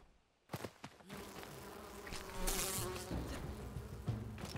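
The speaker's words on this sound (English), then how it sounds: "Leave me alone, bees." Bees buzzing in the fantasy survival game Enshrouded: a steady insect drone that stays close and fairly loud for several seconds, with no voices.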